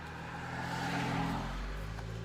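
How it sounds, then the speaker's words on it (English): A single car passes along a road near a tunnel, a steady whooshing engine-and-tire rumble that swells slightly mid-pass and then eases, with no voices. "Don't wait till this car passes."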